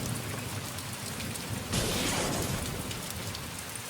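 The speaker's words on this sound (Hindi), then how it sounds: "एक रात अचानक तूफान ने पूरे जंगल को" A nighttime storm sweeping through a forest: steady, dense rain hiss fills the whole stretch, with a sudden surge of heavier downpour partway through and no voices.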